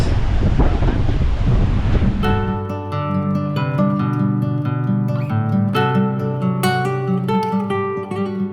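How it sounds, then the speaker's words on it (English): Strong wind buffets the microphone at a seaside lookout on Galle Fort in Sri Lanka, a loud roaring rush for about two seconds before music takes over and the wind fades beneath it. "It's very windy up here"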